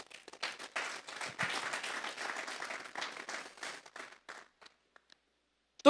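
A church congregation claps together in loud, steady applause for several seconds during a service; the clapping thins out and fades to near silence at the end.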